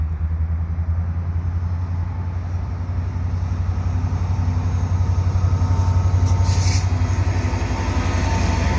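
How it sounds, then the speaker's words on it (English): A CN welded rail maintenance train rolls steadily past nearby at Pointe Claire station, a continuous heavy rumble with rhythmic wheel clatter on the rails and a brief high squeal. "Looks like I've got a CN train headed west here at Pointe Claire train station"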